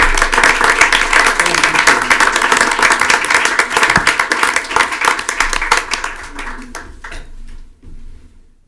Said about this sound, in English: It's how about a round of applause for Steve Caldwell?